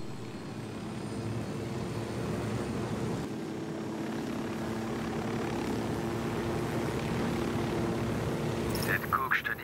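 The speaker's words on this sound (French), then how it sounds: "nous allons prendre un hélicoptère" A helicopter flies in the PS4 game Ghost Recon, its rotor and engine making a continuous, fairly loud drone with a brief burst of noise near the end.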